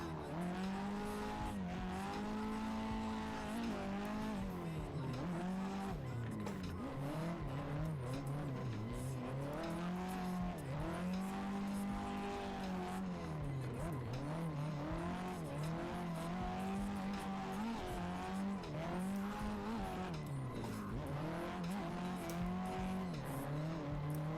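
A drift car heating its tires at a grassroots tandem drift event, with a continuous engine drone rising and falling through repeated revs, plus sustained tire squeal and skidding, loud and close for the whole stretch.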